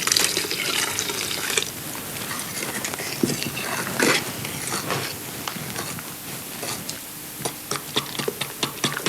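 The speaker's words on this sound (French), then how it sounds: "je vais rajouter du lait chaud" Hot milk pours into a pot for a traditional French coupetade, a steady splashing liquid stream with small ticks and clinks, close and fairly loud, easing slightly toward the end.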